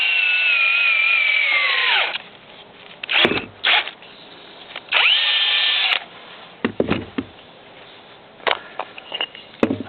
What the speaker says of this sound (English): you just make a drill here